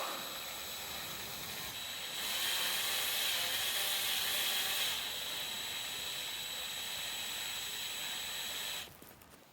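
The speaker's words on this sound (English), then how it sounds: "We're drilling the arms for the solar panels." A drill grinds steadily into metal solar panel mounting arms, the pitch rising midway before settling, then cutting off near the end.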